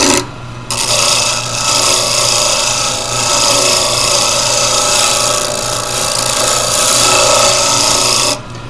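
A wood scraper cuts a pen blank spinning on a lathe, giving a continuous loud rasping, scraping drone with a steady motor hum beneath, running about eight seconds before stopping abruptly.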